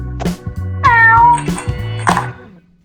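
Cat in Toca Boca World video game gives several clear, loud, tonal meows in quick succession, one drawn out and rising, close up and alone without speech.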